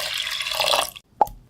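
Lemon squeezed by hand, juice running off: a close, wet hissing trickle for about a second, a brief silence, then one sharp drip landing.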